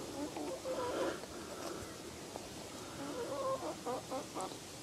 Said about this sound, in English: Hey chicken, go away